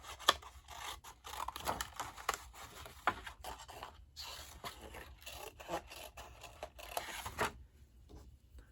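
Scissors cut through paper while a gift card box is being made, close and quiet, giving continuous snipping and scraping strokes for several seconds with no speech.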